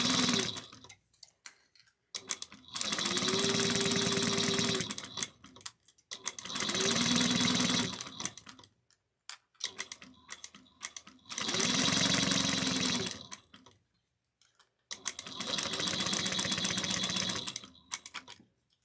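A sewing machine stitches fabric in four long, steady bursts of a few seconds each, separated by short pauses, fairly close and loud, with no talking.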